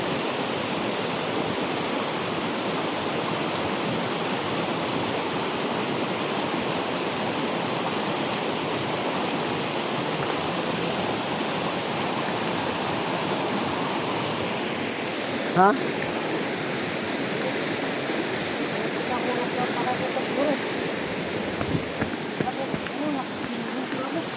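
A creek flowing steadily nearby, a constant broad rushing wash of water under occasional voices and brief movement sounds.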